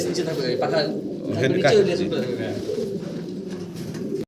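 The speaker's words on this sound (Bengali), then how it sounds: "মাশাআল্লাহ চমৎকার এক জোড়া কবুতর" A pair of fancy pigeons coo in soft, repeated low throaty calls, heard close by under someone talking throughout.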